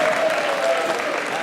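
A dinner audience at an anniversary gratitude celebration applauds in a dense, steady wash of clapping that stays fairly loud and even across the short stretch, with a faint sustained tone running through it.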